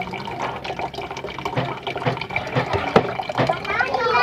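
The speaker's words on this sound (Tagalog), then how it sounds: "Hugasan natin ang munggo." Mung beans washed in water in a kitchen pot, with splashing, dripping and pouring liquid that swells toward the end, close by and under ongoing talk.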